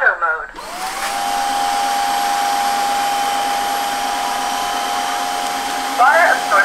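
A Xiaomi Dreame H11 Max wet-dry vacuum cleaner starts up and runs with a loud, steady whirring motor drone and a high whine, with short voice-prompt chimes at the start and near the end.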